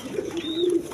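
A pair of grizzle pigeons kept by a breeder cooing, one soft, close, sustained coo with a slight rise, faint room noise behind.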